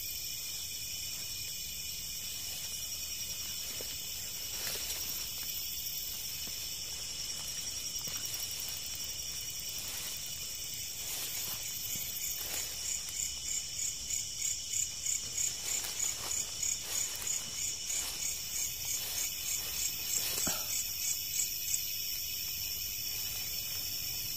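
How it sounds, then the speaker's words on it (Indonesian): Crickets chirp at night in a quiet, deserted spot, a constant high trilling that fills the background, with occasional faint rustles and clicks and a soft rhythmic pulsing later on, no voices. "nggak ada suara selain jangkrik"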